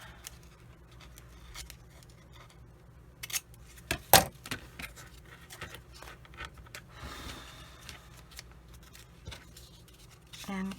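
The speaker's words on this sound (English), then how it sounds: "And now I need to use some smaller scissors." Small scissors snip paper in a few quiet, close cuts, with faint rustling and handling sounds between them.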